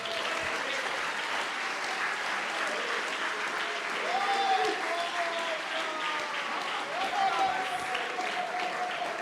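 A church congregation applauds steadily, a wash of many hands clapping at moderate distance, with a faint voice or tonal sound rising through it.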